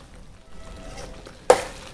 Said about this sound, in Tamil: லைட்டாக அப்படி வதக்கிட்டு ஆஃப் பண்ணியாச்சு